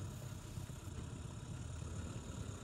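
A trawler's engine idles steadily just after being started, a faint, even, low rumbling hum that runs without a break and with no voices.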